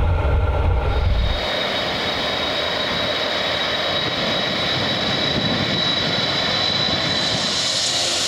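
A military jet aircraft at İncirlik air base, a loud steady engine roar with a high whine holding throughout, close and continuous, after a brief low rumble at the start.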